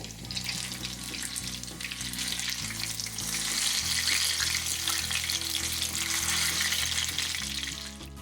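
Mirchi bajji, chili pepper fritters, frying in hot oil with a steady, dense sizzle and crackle, loud and close, alone with no talk over a low background hum.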